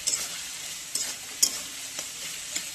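Curry leaves fry on a steamy flame in a pan. A steady, close hiss of sizzling runs throughout, broken by a few light scraping strokes from stirring.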